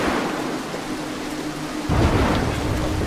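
Thunder from a storm in the stealth video game Mark of the Ninja, a loud low rumble that swells midway over a constant hiss of heavy rain.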